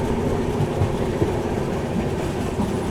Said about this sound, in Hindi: ट्रेन देखो भाई क्या कर्व मार रही है आगे से